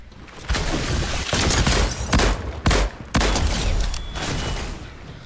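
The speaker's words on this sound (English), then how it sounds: "Right, the prime shotgun." Several loud prime shotgun blasts fire in Fortnite, heavy booming shots spaced about a second apart over continuous game noise, with no talking.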